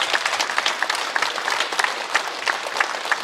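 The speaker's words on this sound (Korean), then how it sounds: "우리 하나님께 영광의 박수 올려드리겠습니다" A church congregation claps during a prayer meeting, giving sustained, fairly even applause with sharp individual claps standing out throughout.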